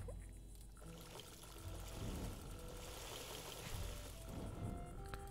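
Water being collected in the video game Dead In Vinland, a quiet steady pouring and trickling that builds slightly midway, faint and continuous, with no speech.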